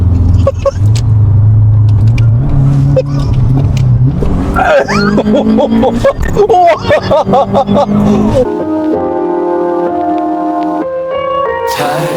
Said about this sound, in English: today we're driving Subaru Forester SG10